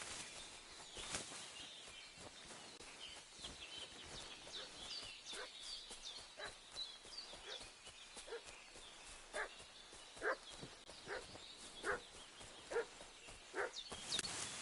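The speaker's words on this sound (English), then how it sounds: "What's that dog making such a fuss about?" A dog barks repeatedly in Kingdom Come: Deliverance 2, with short sharp yaps at irregular intervals. The barking sounds fairly distant and faint over quiet outdoor ambience, with occasional birds.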